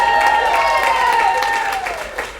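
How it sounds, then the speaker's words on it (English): An audience at a stand-up comedy night applauds steadily, a dense wash of clapping that starts loud and gradually thins and fades toward the end. "Let's get a big round of applause for Jules."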